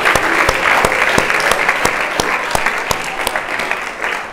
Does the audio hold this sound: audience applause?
yes